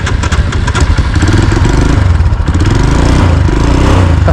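Royal Enfield Himalayan motorcycle fitted with a big bore kit, running loud and close with a steady, throaty engine note and mechanical clatter throughout.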